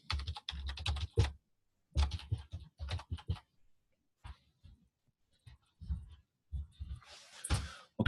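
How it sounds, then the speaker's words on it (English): Keys on a computer keyboard tapped in short irregular bursts while typing into a chat box, fairly close and moderately loud, with pauses between runs of keystrokes. "Let me write that in the chat box over here so you can all see it."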